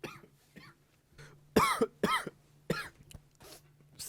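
A few loud, harsh coughs in quick bursts during a podcast recording, separated by short pauses, with faint low hum in the background and no talking.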